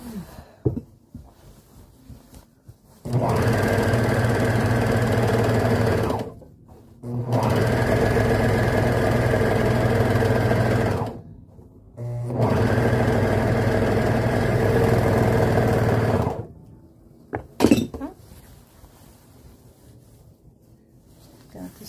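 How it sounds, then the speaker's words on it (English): A serger sewing machine finishes the edge of garment fabric in three steady, close runs of a few seconds each, a humming mechanical whir with short pauses between runs and small handling sounds at the start and end. "Got the serging done"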